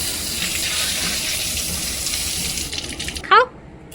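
Rose apples are rinsed under a running tap, a steady gush of water into the sink that breaks up and ends with a short splash as the flow is shut off.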